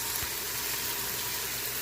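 Garlic sautéing in a pot for a vegan coconut papaya soup, giving a steady, close, low sizzle that runs evenly throughout with no talk over it.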